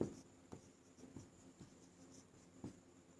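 A pen scratches maths working onto paper in a quiet classroom setting, giving soft, faint, evenly spaced strokes and taps up close.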